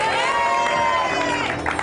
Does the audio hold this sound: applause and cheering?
yes